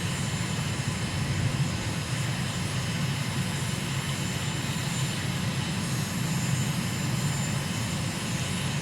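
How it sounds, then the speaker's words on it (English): An amphibious aircraft engine in Microsoft Flight Simulator drones steadily and loudly throughout, a constant rumbling roar with no change in pitch or level. "Good place to visit in an amphibious aircraft."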